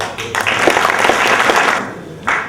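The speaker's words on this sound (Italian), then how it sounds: "Applauso." Loud applause from a crowd at a San Sebastiano celebration of the Triveneto Circolo dei 13 in Udine, a dense wash of clapping that swells, eases off, then briefly surges again near the end.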